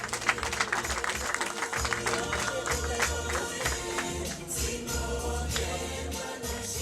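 Guests clapping at a Rwandan marriage proposal and dowry ceremony, a steady wash of applause from the crowd mixed with music and voices.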